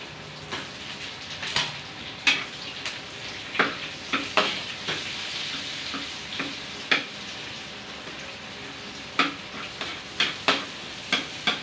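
Butter sizzling in a hot pan under a constant frying hiss, broken by repeated scraping and stirring strokes that land in clusters, close and moderately loud with no talking.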